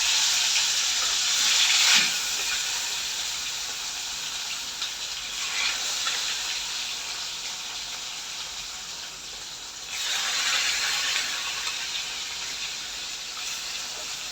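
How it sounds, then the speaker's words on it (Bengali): Rohu fish pieces frying in mustard oil, a steady broad hiss of sizzling that swells and fades in waves, close and fairly loud with no voices. "মাছগুলো ভেজে নিচ্ছি।"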